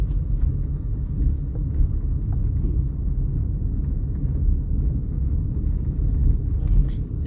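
A car engine with a low, steady rumble that swells slightly as the accelerator is pressed during a driving lesson, close and continuous, with no clear rise to a sharp rev.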